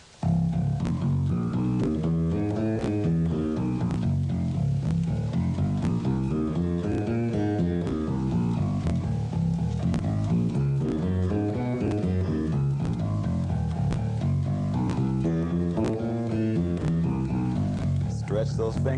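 Low, dense finger-plucked bass guitar notes climb and descend in a continuous repeating arpeggio exercise, a bass run played steadily and close throughout.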